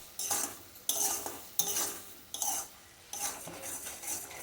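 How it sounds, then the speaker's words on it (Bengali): Broad beans in spice masala stirred over a medium-high flame, a spatula scraping the pan in about five short bursts, each with a bright clatter over a soft sizzle. "শিমটা দিয়ে নিয়ে আরও 10 মিনিট মতো আমি মিডিয়াম টু হাই ফ্লেমে নাড়াচাড়া করে নেব"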